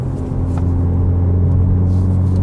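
A 2022 Hyundai Veloster N in sport mode gives off a loud, steady, deep exhaust rumble up close, with a constant low drone and no talk.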